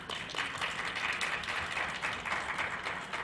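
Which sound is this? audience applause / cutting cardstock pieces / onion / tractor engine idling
audience applause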